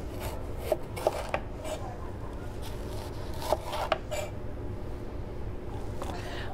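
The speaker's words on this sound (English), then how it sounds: "For these, I'm first cutting sort of thinner strips because I want small pieces for my corn salad." A knife slices a pepper into thin strips on a cutting board, giving a handful of sharp, crisp taps in small clusters over a steady low background hiss.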